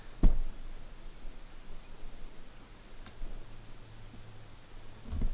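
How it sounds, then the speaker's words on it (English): Small bird chirping faintly in the background of an outdoor back porch, a few brief high calls spaced a couple of seconds apart over quiet ambient hum. "I like the sound of the little bird in the background."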